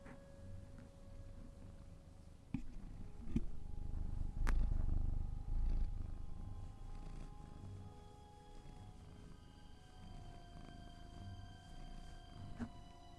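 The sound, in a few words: cat purring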